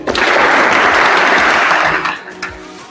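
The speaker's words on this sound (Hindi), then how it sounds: "तालियां बजाओ" Applause from a seminar audience on life failure and self-confidence, a dense steady wash of clapping for over two seconds that fades, with a brief stray clap near the end.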